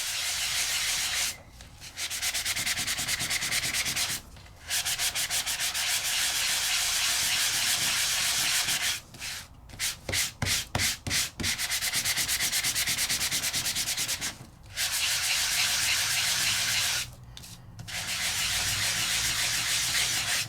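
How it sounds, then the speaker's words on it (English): Paper is sanded with a Sizzix sanding block in steady, close, raspy back-and-forth strokes, broken by a few brief pauses and a quick burst of short strokes, with no talking. "So I always kind of rotate my paper when I'm sanding."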